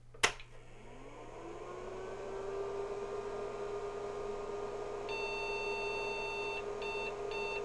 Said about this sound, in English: Got a long beep and 2 beeps